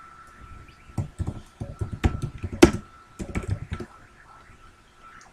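Quick bursts of clicking keystrokes on a computer keyboard, irregular and close, with short pauses between runs of typing and a faint steady hum underneath.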